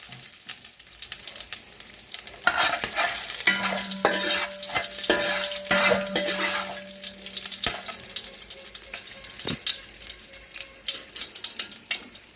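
Whole spices crackle and sizzle in ghee and oil in a pan for restaurant-style chicken mandi biryani, a dense steady frying hiss with stirring scrapes, a faint tonal hum and brief clinks running throughout, no talk.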